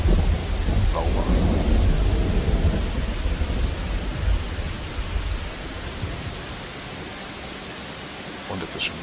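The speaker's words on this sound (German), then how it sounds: "Und es ist schon wieder am Gewitter." Thunder rolls through a storm in the video game The Infected. A deep, loud rumble fills the first few seconds, then fades into a softer, hissing wash with faint crackles.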